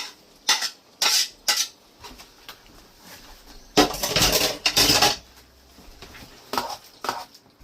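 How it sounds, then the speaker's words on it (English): Onions go into a pan for sweet chili beef with hokkien noodles and are stirred, producing close metallic clinks and scraping bursts of a utensil against the pan, irregular and loud, with no talking. "I'm going to put the onions in now"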